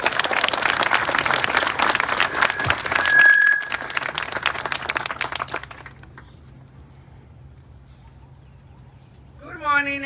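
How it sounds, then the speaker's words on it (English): At a school ribbon-cutting ceremony in Aurora, Illinois, the audience claps steadily outdoors for several seconds and then fades out, leaving quiet background hum before a brief voice or sound at the end. "Please give her a round of applause as she makes her way to the podium."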